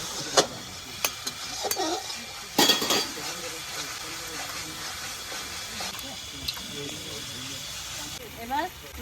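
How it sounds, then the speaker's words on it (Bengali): Eggs are cracked and beaten in a bowl during home cooking of a Mughlai chicken kofta: a few sharp clinks and taps, then softer rhythmic whisking against the bowl, with quiet kitchen clatter and a voice speaking under it. "এখন ডিমগুলো আমি ফাটিয়ে নেবো।"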